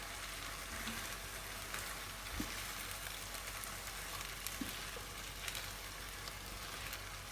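A steady, close sizzle and bubbling of sweet soy and stock sauce thickening over beef in black bean sauce in a pan, continuous with faint occasional ticks.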